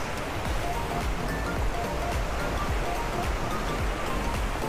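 Bega Falls in Prosperidad, Agusan del Sur, Philippines, roars as a constant broadband rush of falling water, even and unbroken throughout, with no clear voices over it.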